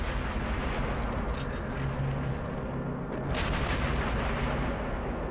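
Sniper rifle headshot gunfire in Sniper Elite V2, a dense run of booming shots and rumbling blasts that fills the whole stretch at steady loudness, with no voices over it.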